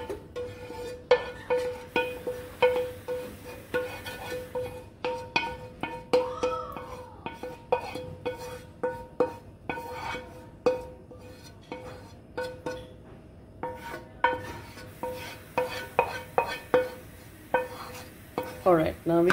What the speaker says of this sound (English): Now we'll add the sauce in this pasta and then we'll mix it nicely together